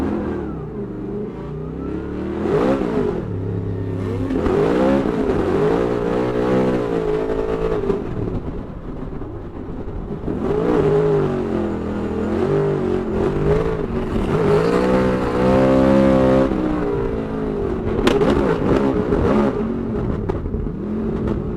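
A four-cylinder drift car engine revs hard and repeatedly, rising and falling in pitch with sharp accelerations, heard at moderate distance over about twenty seconds with no voices.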